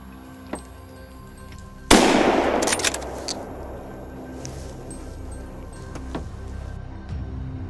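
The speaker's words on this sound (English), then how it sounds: "Gunshots echoed steadily through the quiet forest, each shot cleanly dropping a target." A gunshot rings out in a forest during a wild boar hunt in Texas, one loud sharp crack with a rolling echo, followed by a few quick faint pops and then quiet.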